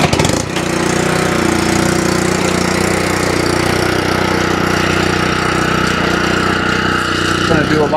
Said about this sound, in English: I'm gonna do a live mow of the putting green.